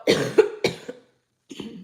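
Two or three sharp, close coughs in quick succession, a short pause, then a softer throat-clearing cough.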